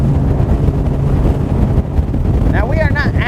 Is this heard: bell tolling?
no